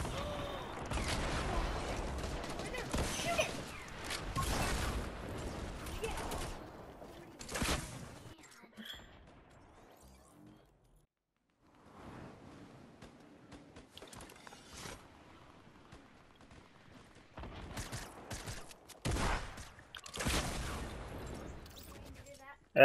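Shotgun blasts in Fortnite, several loud broadband bursts spread across the stretch, some clustered close together, with game noise and a brief quiet gap between them.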